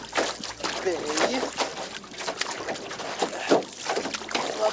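Small lake waves slap against the raised bow of a kayak out pike fishing, irregular splashy knocks and sloshing close by while someone talks over them.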